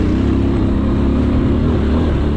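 AKT TTR 200 motorcycle, a 2023 model, ridden off-road on a rough trail, its engine running at a steady, loud drone that stays close and continuous throughout, with no talk over it.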